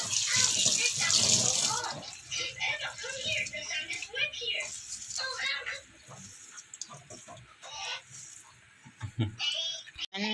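Water pours and splashes steadily over hot boiled young cassava leaves in a kitchen, loud at first and then in shorter bursts, with a voice talking over it.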